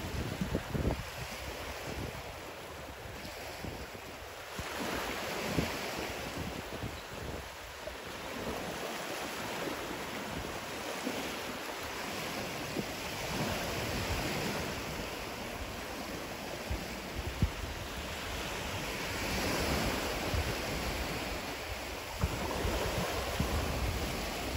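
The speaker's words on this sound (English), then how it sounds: "So I'll be quiet and let you enjoy some beach time." Ocean waves wash onto a beach at low tide in the evening, a steady, broad surf rush mixed with wind buffeting the microphone, continuous and moderately loud with no talking.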